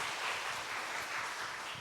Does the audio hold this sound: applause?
yes